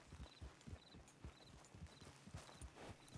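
Hooves of a horse in a video game clip-clop in a steady walking rhythm, close and clear, with a faint repeating chime above them.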